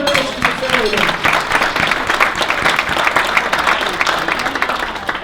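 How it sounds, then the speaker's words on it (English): A crowd at a family business awards event applauds, a full, sustained round of clapping that stays loud and even throughout, with a voice briefly audible at the start. "That deserves a round of applause."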